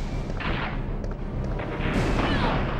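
Heavy rocket fire from Nemesis in Resident Evil 3, deep booming blasts and rumbling explosions rolling over one another, loud and close, with a larger swell of impact near the end.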